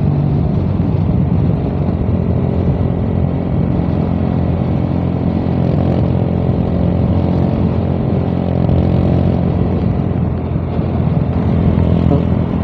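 A Rusi 150 motorcycle engine revving hard at top speed, a loud, steady, continuous drone with rumbling road and wind noise, sustained without a break throughout.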